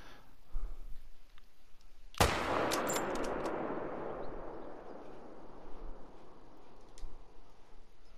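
A single Mosin Nagant rifle shot in a deer hunting video game, a sharp loud crack followed by a long rolling echo that fades out slowly, with a few faint ticks afterward.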